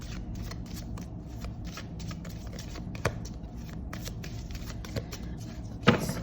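A deck of cards is shuffled close up in quick, repeated riffles and flicks, with a sharper snap of cards near the end.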